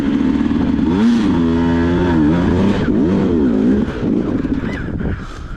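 A 2022 Beta 200RR Race Edition motorcycle is ridden up close, its engine revving loudly in rising and falling sweeps as the throttle opens and eases, steady throughout with no voices.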